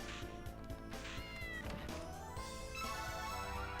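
Cat meowing inside the video game Castlevania: Order of Ecclesia, short mewing calls sitting over steady game music with drums, rhythmic and fairly loud throughout.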